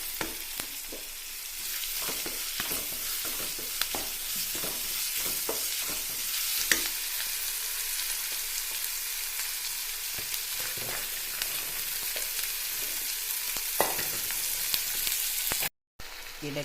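Onions sautéing with salt in a pan, a steady close sizzle broken by repeated stirring scrapes, continuous throughout and briefly cut off near the end.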